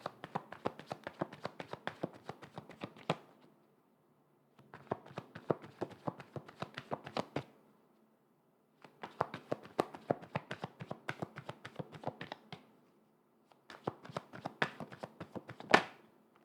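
Tarot cards are shuffled by hand in four quick bursts of dense, crisp riffling and flicking, close and fairly quiet, separated by short silences, with no talking.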